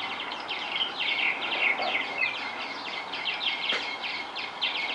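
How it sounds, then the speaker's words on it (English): Busy chattering and gurgling calls from a group of purple martins, fairly faint with a steady background hiss. "For those who want lots of company, there are purple martins."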